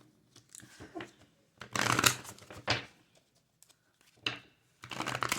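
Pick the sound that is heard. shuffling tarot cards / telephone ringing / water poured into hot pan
shuffling tarot cards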